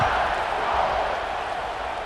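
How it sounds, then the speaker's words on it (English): Stadium crowd in a college football video game, a steady broad roar of murmuring spectators rolling on continuously at moderate loudness without breaks. "this crowd is buzzing after that last score"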